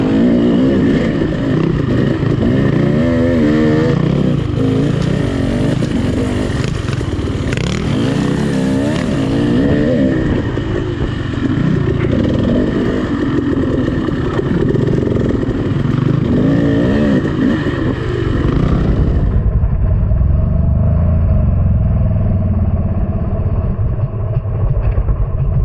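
Off-road motorcycle ridden on trails at Tahuya, engine revving and shifting continuously for the whole stretch, loud and close, then abruptly dropping to a lower, duller drone near the end.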